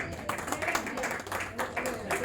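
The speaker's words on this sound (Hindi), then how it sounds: "दोस्तों जोरदार तालियां हम सबकी अपनी मुंबई पुलिस के लिए।" Audience clapping steadily for Mumbai police at a Women's Day charity event, a dense rattle of many hands that holds for the whole stretch, with voices mixed in underneath.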